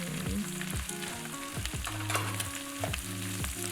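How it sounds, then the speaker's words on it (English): Pork and white or yellow onions brown in a pan for jajangmyeon black bean sauce, a steady close sizzle and frying crackle with occasional stirring scrapes, no voices. "we brown the pork just a little bit, not too much"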